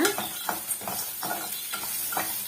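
Coconut pieces sauté in a pan for a curry leaf chutney, a close, steady sizzle broken by rhythmic scraping stirs.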